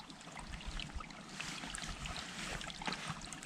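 A small creek trickles out of the ground in a faint, steady babble of water, quiet and close, with no talk over it.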